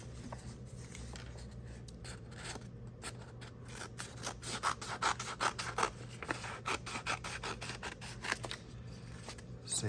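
Scissors cut through folded craft foam in a quick run of close, crisp snips and rubbing scrapes, some blades meeting in short bursts, quiet and without talking.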